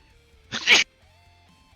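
A single sharp human sneeze bursts out at close range during quiet room tone, brief and loud, followed by near silence.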